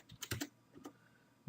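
Quiet clicks of typing on a computer keyboard while entering a note into legal case-management software, a short cluster of soft keystrokes followed by a pause and then one more faint tap.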